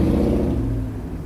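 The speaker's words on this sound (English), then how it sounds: "You'll have to forgive the motor noise going on behind me." A car engine drones and revs nearby outdoors, a steady loud mid-range motor roar that eases off slightly toward the end, with no talk.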